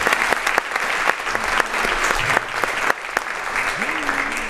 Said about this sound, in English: So she deserves a round of applause, Senator Lovely.